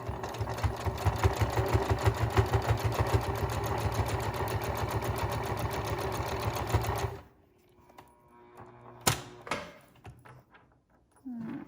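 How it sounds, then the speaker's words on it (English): A sewing machine runs a top stitch around the edge of a homemade fabric face mask, a steady rapid mechanical chatter for about seven seconds, then it stops, leaving quiet room noise with a few faint clicks. "I'm gonna run a top stitch around the whole thing real quick"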